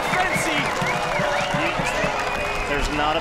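Record-breaking home soccer crowd roaring after a goal, a loud, continuous swell of cheering and clapping, with speech heard over it.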